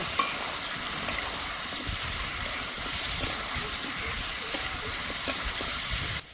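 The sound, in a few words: stirring and frying young jackfruit with salt and turmeric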